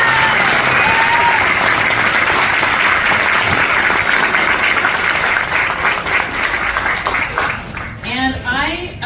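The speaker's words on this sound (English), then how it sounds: "Can we all give them one big round of applause?" Loud, full applause from the crowd at an FFA banquet, continuous heavy clapping that eases slightly near the end as voices start to come through.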